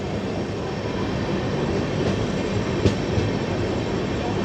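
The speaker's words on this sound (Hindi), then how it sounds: "हम लोग धीरे धीरे श्री कृष्ण जन्मभूमि मथुरा जंक्शन को स्किप कर रहे हैं" A Chennai Garib Rath express moving slowly through Mathura Junction, heard from onboard as a steady, loud rumble of coaches with faint wheel clatter and a couple of soft knocks.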